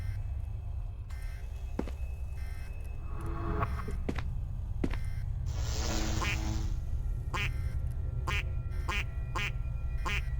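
A flamingo item in the video game SCP Containment Breach Ultimate Edition Reborn gives repeated short quacks, scattered through the stretch and clustering toward the end, over a low game hum with a brief whooshing burst midway.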